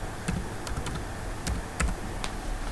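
A computer keyboard gives a handful of sparse, crisp key taps at close range, spaced irregularly over a steady background hiss, with no talking.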